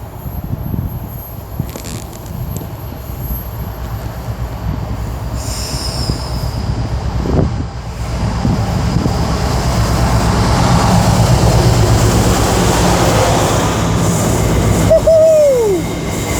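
A slow train rolls through Lichfield Trent Valley station, its wheels and wagons rumbling loudly and continuously, with metallic squeals and a brief high wheel screech near the end.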